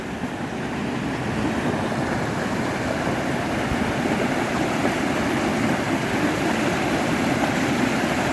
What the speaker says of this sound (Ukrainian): Ну і ось даний водоспад.